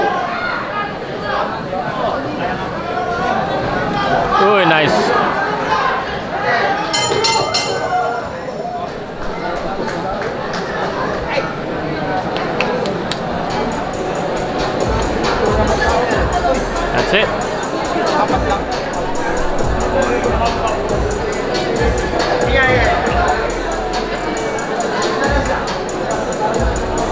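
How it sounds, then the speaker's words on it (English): A crowd at a boxing event in the Elorde Grand Ballroom of the Elorde Sports Complex fills the hall with loud, continuous chatter and babble, punctuated by scattered claps and thuds, while a nearby voice talks over it. "This is the crowd here at the Elorde Grand Ballroom here at the Elorde Sports Complex."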